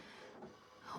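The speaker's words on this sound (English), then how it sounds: "So that's why you're going to hear my printer going off." A home printer running in the background, a continuous faint mechanical whir and hum that swells slightly at the end.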